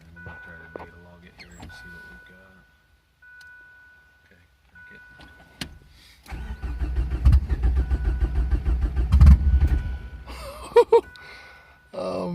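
A Ford Probe running on a standalone ECU cranks with a steady rhythmic chug that grows louder, nearly catching with a brief surge near the end, while a person talks excitedly before and after.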